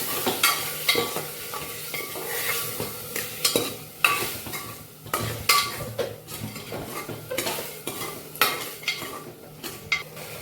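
Potatoes and spices being stirred in oil inside a pressure cooker, with frequent metallic scrapes and knocks of a spoon against the pot over a soft sizzle, close and irregular.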